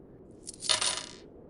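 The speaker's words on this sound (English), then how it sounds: "He reached for his pocket and put the coins on the counter." A handful of coins set down on a shop counter, a short bright metallic jingle and clatter lasting under a second, close and alone against quiet background.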